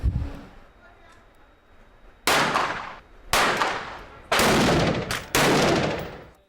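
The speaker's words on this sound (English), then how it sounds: "The gunshots come from a group of highly focused UNC students." Four sharp gunshots at a shooting range crack one after another at roughly one-second intervals, loud and echoing after a quiet start.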